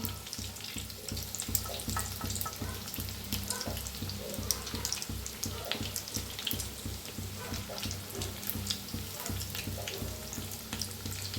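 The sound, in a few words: bread potato balls frying in oil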